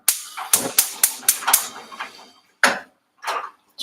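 A gas stove burner being switched on, its igniter giving a rapid series of about seven sharp clicks, followed by a couple of softer whooshing bursts as the flame catches, close and clear with no talk.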